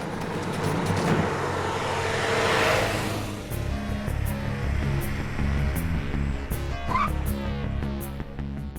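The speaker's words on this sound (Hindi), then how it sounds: "गाड़ी क्यों रोक दी?" Car on a road driving along, its broad engine and road rumble swelling, then easing off as the vehicle slows, followed by lighter mechanical clatter and ticks; no talking.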